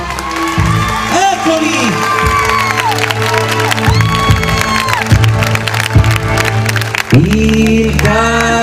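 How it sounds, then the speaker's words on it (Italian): An audience at a live outdoor show in Alpignano cheers, whoops and applauds loudly and continuously, with shouting voices and someone talking over the crowd noise. "Se mi dovete fare questo applauso non me lo fate per niente."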